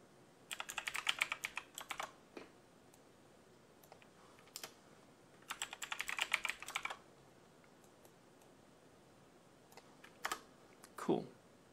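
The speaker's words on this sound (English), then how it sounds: "It's just a little bit of typing things out." Bursts of typing on a computer keyboard during data analysis work, quick clusters of key clicks separated by pauses, fairly close and crisp, with a few isolated clicks.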